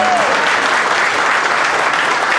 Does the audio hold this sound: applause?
yes